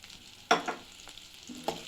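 Onion, garlic, curry leaves and green chillies fry in oil in a pan, a soft sizzle broken by a few sharp scraping stirs of a spoon, close and quiet with no talk.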